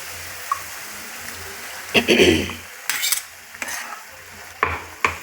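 Utensils scrape and stir grated fresh coconut in a pan, with a burst of sizzling as water hits the hot oil, followed by a few sharper clinks.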